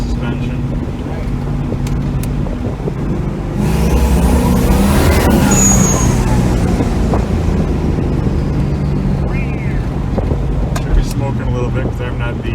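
An RX7 fitted with a turbocharged small-block Chevy engine drones steadily from inside the car, under heavy wind and road noise, with a surge partway through and someone talking over it.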